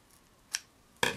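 Scissors snip Stitch Witchery fusible adhesive to size, two short crisp cuts: a faint single snip followed by a louder, closer double snip, with no talking.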